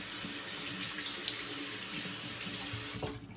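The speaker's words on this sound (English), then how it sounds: "Let me kind of rinse this off here." Tap water runs steadily into a sink as lather is rinsed out of a Sterling lavender marble badger shaving brush, a close, even hiss that cuts off abruptly at the end.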